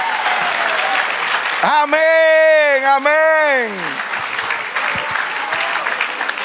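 A church congregation claps loudly and steadily through a sermon, while a voice calls out over the applause partway through.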